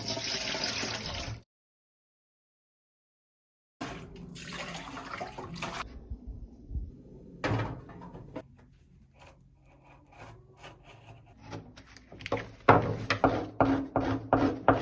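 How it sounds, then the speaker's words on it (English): Water pours and splashes into a container in irregular bursts, with a gap of silence early on and clattering handling noises as it continues, close and moderately loud. "So I'm going to add 1 gallon of water."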